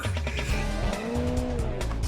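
Video game car with a modified exhaust, engine note droning and rising steadily under tire squeal throughout, loud and close.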